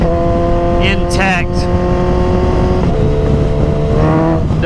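Engine of a 2022 Suzuki Hayabusa motorcycle running at steady high revs with a smooth harmonic drone, a brief rise and fall in pitch early on, while a voice talks over it throughout.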